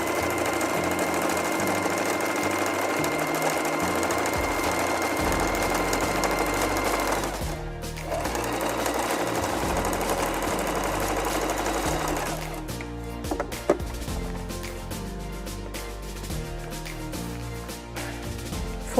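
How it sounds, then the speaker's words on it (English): A sewing machine stitches bias binding strap onto the top edge of a fabric pocket, running in steady mechanical bursts with a short pause near the middle and a faster, lighter stitching stretch toward the end. "we're going to sew the bias binding strap onto the pocket, the edge of the top of the pocket"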